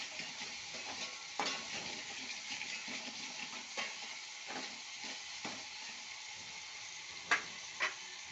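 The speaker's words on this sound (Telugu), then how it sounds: "ఇది కలుపుతూ ఉండాలి, మాడకుండా." Onions frying in a pan for a curd rasam recipe, stirred so they do not burn: a faint, steady sizzle with soft scraping strokes of the stirring spoon and a couple of sharper clicks near the end.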